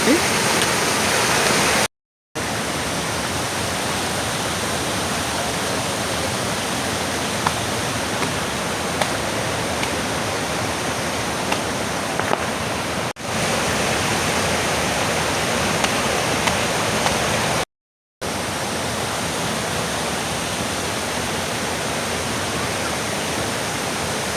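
Water from a filled village dam rushes down a stream in a loud, steady broadband roar, continuous apart from two brief cuts.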